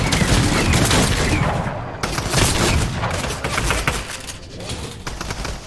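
Rapid bursts of gunfire in Fortnite, including a shotgun, fire in a dense, continuous volley across the whole stretch, loud and close with sharp repeated cracks and no talking.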